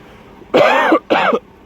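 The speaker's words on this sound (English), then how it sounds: "I just have a cough because of this allergies." Two harsh, forceful coughs from someone with allergies, close and loud, the second following the first after a brief pause.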